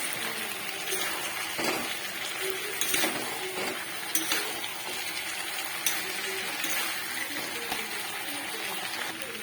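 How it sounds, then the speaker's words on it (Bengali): Vegetables and potatoes with fried onions being stirred in a pan while cooking kachki fish curry, a soft ongoing scrape and sizzle with small clicks from the utensil against the pan, close and steady. "সব কিছু দিয়ে ভালো মতন এটা নাড়তে থাকবে।"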